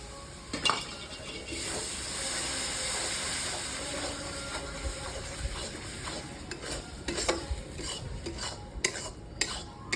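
Tomato paste is stirred into a hot pan of restaurant-style mixed vegetables, with a gentle sizzle under repeated scraping and clinks of a spoon against the pan, close and moderately quiet.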